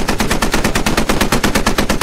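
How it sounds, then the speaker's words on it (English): Sustained automatic gunfire in the video game Squad: a dense, even stream of loud, close shots in rapid rhythm with no pauses. "Has a shootout with Bao, actually."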